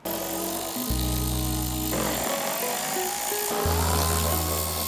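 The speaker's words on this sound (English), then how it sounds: "we're gonna take out the 10mm bolts" A power tool whirs steadily while removing 10mm bolts from a Toyota Tundra fender flare, a loud continuous motor drone that shifts pitch in steps as the trigger eases and presses again.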